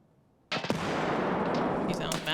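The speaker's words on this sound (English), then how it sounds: "I'm throwing a nade at him." A thrown grenade going off during a firefight in the shooter game Escape From Tarkov, one sudden loud blast followed by a sustained roar of explosion and gunfire noise that fills the rest of the moment.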